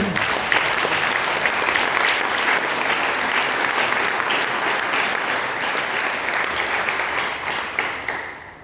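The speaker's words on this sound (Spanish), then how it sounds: "Denle un aplauso al Señor." Sustained congregation applause inside a church during a Sunday sermon, a dense, crowded roar of clapping that stays strong for several seconds before fading near the end.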